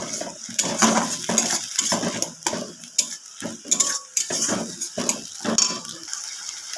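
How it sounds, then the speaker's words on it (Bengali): A ground spice paste sizzles steadily in a hot pan for a bitter gourd dish while a spatula scrapes and stirs it in quick, loud, close strokes, with no one speaking. "এবার মশলাটা খুব ভালো করে কষিয়ে নেবো"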